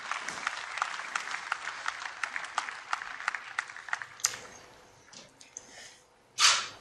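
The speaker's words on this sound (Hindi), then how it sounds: "आइए तालियों की गूंज के साथ आमंत्रित करें माननीय श्री नरेंद्र मोदी जी को" An audience applauds to welcome Narendra Modi, with dense, rapid clapping that fades out, followed by a few scattered sounds and a short burst of noise at the end.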